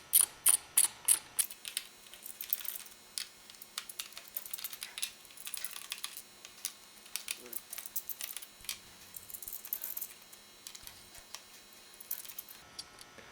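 Screws are removed from the underside of a Toshiba Satellite L955 laptop, with a quick run of sharp clicks followed by irregular light ticking and scraping, close and quiet.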